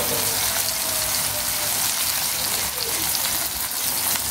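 Dried red chillies fry in hot oil, producing a dense, continuous crackling hiss that stays loud and even throughout, with no other sounds standing out.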